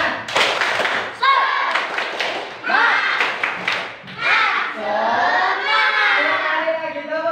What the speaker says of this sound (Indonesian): Yuk, kita selingi dulu dengan tepuk semangat bersama.